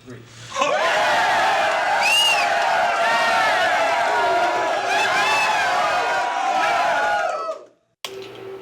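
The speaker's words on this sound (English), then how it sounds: "we need to get these crowd sounds for Murder Brawl" A packed group of people crammed together cheering and whooping with enthusiasm for crowd sounds in Saints Row: The Third's Murder Brawl, a loud, sustained wall of voices lasting about seven seconds before cutting off abruptly.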